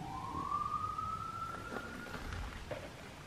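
A police siren wails faintly in the distance, one long rising sweep over a low rumble of background noise.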